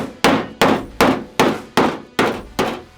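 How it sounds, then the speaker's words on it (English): Seven sharp hammer blows land on a metal truck bed at an even, unhurried pace, each strike ringing briefly before the next, close and loud. "a little persuasion with the hammer"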